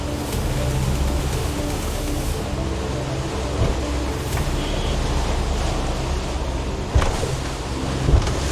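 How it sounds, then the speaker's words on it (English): Steady rushing water and wind noise on a moving catamaran crossing a bar in swell, with a couple of dull slaps of waves hitting the bridge deck near the end. "Some bigger bridge deck slapping there"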